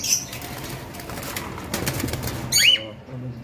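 Cockatiels flap their wings inside a cage, a busy rustle of wingbeats running throughout with a few short chirps and a louder flurry near the end.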